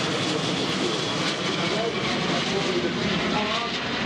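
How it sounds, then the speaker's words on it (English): A Lockheed TriStar tanker transport aircraft from 216 Squadron makes a flypast, its jet engines producing a loud, steady, broadband roar that holds throughout without a break. "Third up, the Lockheed Tri-Star from number 216 Squadron, another tanker transport"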